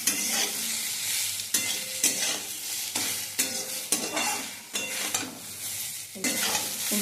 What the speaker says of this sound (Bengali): এরকম কড়া করে ভাজা ভাজা করে নিয়েছি